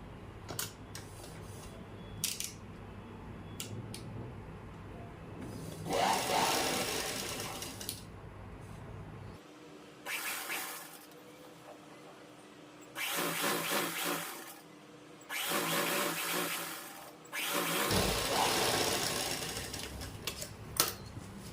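A sewing machine stitches a buckram form onto the edge of salwar fabric in several bursts of fast, rattling needle action, separated by quieter pauses and small handling clicks, with no talking.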